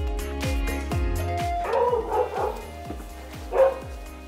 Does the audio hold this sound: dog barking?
yes